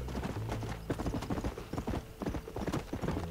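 Horse hooves trot in a steady clip-clop rhythm in the Western video game Red Dead Redemption, close and continuous with no talk.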